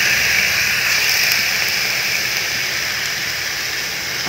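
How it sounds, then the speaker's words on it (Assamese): Chicken meat hits a hot wok for a chicken with mustard greens dish, giving a loud, steady, broadband sizzle that holds evenly throughout with no talking. "মাংসখিনি দি দিলোঁ"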